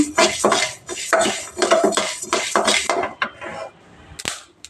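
Urad dal dry-roasted in a pan for fenugreek leaf chutney, a series of close, busy scraping and rattling strokes as a utensil stirs the grains, trailing off into a few sparse clinks near the end.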